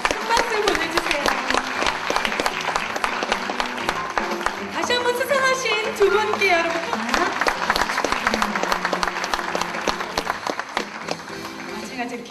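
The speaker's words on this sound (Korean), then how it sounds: "큰 박수 보내주세요." Audience applause at a 2013 Korean traditional pop music awards ceremony, steady clapping running throughout under a presenter's continuous talk and background music.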